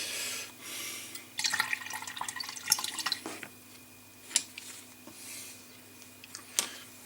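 A number 4 paintbrush swished and tapped in a water pot, giving a string of small splashes, drips and clinks, close and fairly quiet, with clear pauses between bursts and no talking.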